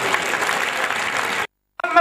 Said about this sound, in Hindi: बजा जोरदार ताली।